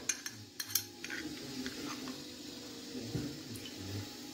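Strawberry jam spooned into a pan for syrup, soft metallic spoon clinks and scrapes against the pan, a few quiet taps and stirring sounds, close and faint.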